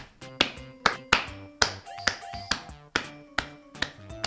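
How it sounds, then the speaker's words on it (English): Hands clapping in a steady series of about ten sharp, close claps, each crisp and distinct with brief ringing tails and short gaps between them. "When you clap your hands, a sound is produced."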